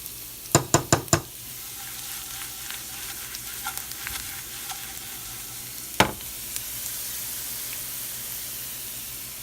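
Garlic browns in a small amount of oil in a pan, giving a soft, steady sizzle throughout, with a few sharp utensil knocks at the start and another around the middle.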